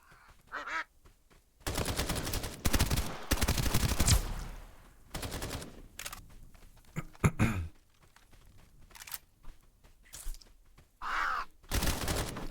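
Gunfire in the video game Escape From Duckov, bursts of rapid automatic shots and single cracks spread across the clip, with quieter gaps and some game noise between volleys.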